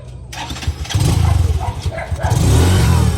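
A motorcycle engine cranks and catches at close range, settling into a loud, steady idle with a brief rev, while a dog barks faintly in the background.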